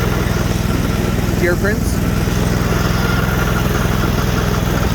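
Sears Suburban snowblower with a 20HP Briggs V-twin engine running steadily in deep snow, a loud, even, throbbing drone with no breaks, as someone talks briefly over it.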